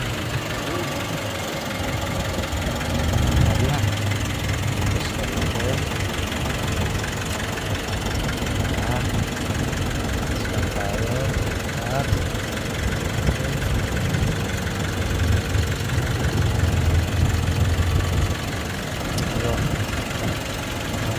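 The engine of a Nissan NV350 van runs steadily at a rough, rumbling idle throughout, close and continuous, with voices talking over it in the background.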